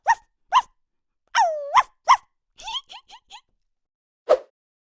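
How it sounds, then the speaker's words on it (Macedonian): A dog barks in a series of clear, separate yelps and woofs, some rising and some clipped, close and loud against total silence, ending with one final bark after a pause. "Куќе. Куќе. Дојди, куќе."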